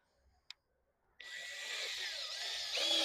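A power drill whirs while a small garden bed is built in a Houston, Texas yard: a single faint tap, then the motor spins up and runs steadily, rising slightly in pitch near the end.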